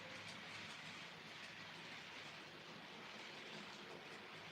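Model trains running on a layout with a steady, faint rolling rumble and a soft clickety-clack throughout, and no voices.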